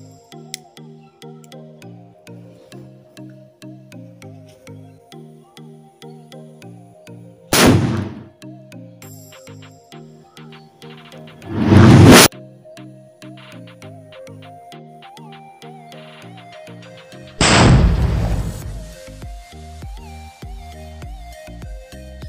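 Gaddha firecracker being test-fired outdoors among fireworks tests, three loud sharp bursts spaced several seconds apart over a steady ticking, tonal musical background.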